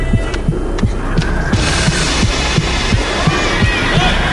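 A deep, regular thumping pulses like a heartbeat, roughly two beats per second, over a dense hum and faint crowd murmur.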